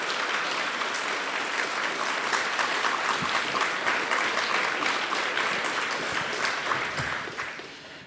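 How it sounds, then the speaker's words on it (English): Sustained audience applause fills a room at an Indigenous climate justice symposium, a steady wash of clapping that tapers off near the end with no voice over it. "one more round of applause for these beautiful women up here"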